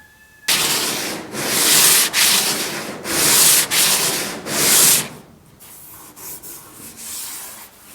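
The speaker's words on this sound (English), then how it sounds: "So let me get some sanding done and I'll bring you right back." Body filler being sanded on a GTO restomod car: loud, close abrasive rasping in long repeated strokes, about five strong passes followed by lighter, shorter scrubs, with no voices.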